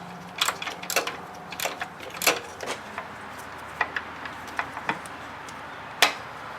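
A ratchet loosens an adjuster bolt on a 2000 Chrysler 300M engine, giving a run of quick clicks and taps, some clustered and others spaced out, close by with no talk.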